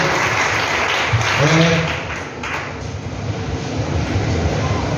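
A church congregation claps together in praise of the Lord, a dense, steady wash of applause that swells slightly midway, with a few voices mingled in.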